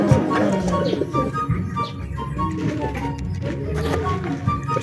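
A red bar racing pigeon coos in a loft, soft repeated low coos mixed with faint chirps from other birds over steady background noise.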